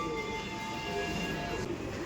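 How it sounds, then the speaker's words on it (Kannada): Ambience on a busy railway station platform, with a steady low rumble of trains and faint high tonal hums and whines running continuously, no clear voices. "ಗೈಸ್ ನಾವಿದ್ದೀವಿ ರೈಲ್ವೆ ಸ್ಟೇಷನ್."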